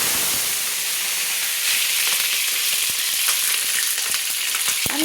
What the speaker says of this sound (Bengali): তো সেই ছেঁকে নেওয়া ফুলকপিগুলোকে আমি দিয়ে দিচ্ছি সাদা তেলে।